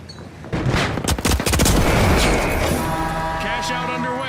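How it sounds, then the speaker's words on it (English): A flashbang grenade goes off in the video game The Finals amid heavy gunfire, with a loud burst of shots followed by a sustained ringing roar. Voices are heard in the game mix. "Using a flashbang!"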